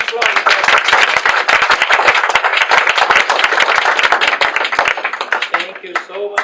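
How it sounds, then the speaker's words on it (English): An audience gives a round of applause at a celebration of a student's admission to Yale University, dense hand clapping that is loud and close and holds steady for several seconds before thinning out at the end. "one big round of applause"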